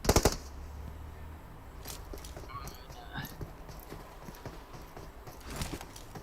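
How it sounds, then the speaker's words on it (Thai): An enemy player's footsteps in PUBG Mobile come as a quick run of soft, rhythmic thuds under faint game ambience, fairly close and steady. "ได้ยินเสียงเท้ามัน"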